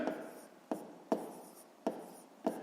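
Pen writing out a math calculation on paper, a close, quiet series of scratchy strokes in uneven bursts, about five distinct scrapes over a few seconds.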